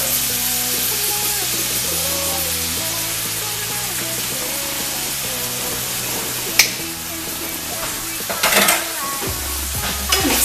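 Butter and flour roux for country-style gravy sizzling steadily in a pan, with a few scraping stirs and a couple of sharper utensil clicks near the end, close and continuous without talk.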